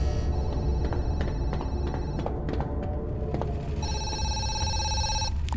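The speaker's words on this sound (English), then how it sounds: "There's a phone somewhere." A telephone rings inside the Zoochosis video game, its bell-like tone sounding loud and steady over a dense background hum, with a clear ringing burst near the end.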